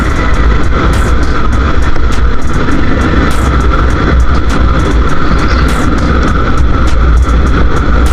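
A motorcycle fitted with a racing exhaust runs loud and close, a dense continuous engine roar with rapid pulsing revs throughout and no talking.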